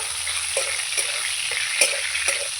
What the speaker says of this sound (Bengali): চিকেনটা দিয়ে দেবো চিকেনটা একটু ভালো করে ভেজে নেব